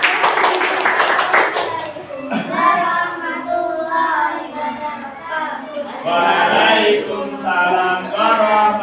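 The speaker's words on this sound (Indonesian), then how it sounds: "ayo tepuk tangan untuk Mbak Asmi dan kelompoknya" A short burst of group clapping for Mbak Asmi's group fades after a second or two, and then several voices talk and chatter over the rest.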